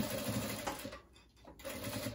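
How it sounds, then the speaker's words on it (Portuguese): A sewing machine stitching fabric for an insulated bottle holder, a soft, fast, even whirring hum that briefly dips before running again, close and quiet. "Vem aqui na máquina e vamos costurar aqui."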